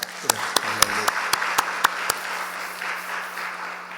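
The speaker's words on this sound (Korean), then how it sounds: "우리 성가대원들 위해서 박수 한번 쳐보시죠" Church congregation clapping for the choir during a Korean worship service: a faint, steady patter of applause with a few sharper individual claps early on and a low hum beneath, fading slightly toward the end.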